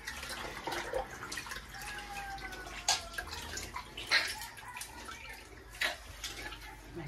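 Tap water runs steadily while tripe is rinsed for tripe soup, with splashes and drips against the basin standing out as a few sharper bursts over the continuous flow.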